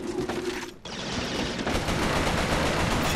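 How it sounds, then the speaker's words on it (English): A futuristic Auger weapon fires in Resistance: Fall of Man, a loud, continuous stream of rapid gunfire that pauses briefly and then keeps going steadily. "Whatever, I'll shoot you through the wall then, punk."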